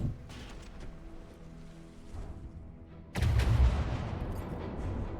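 Heavy naval gunfire from warships battling in the game From the Depths, a steady rumble of low booming shots that surges into a louder, denser barrage about two thirds of the way through.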